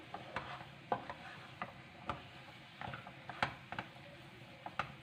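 Quiet, close scraping and tapping of a utensil stirring flour as it roasts in a pan for milk halva, in irregular light strokes over a faint background hiss.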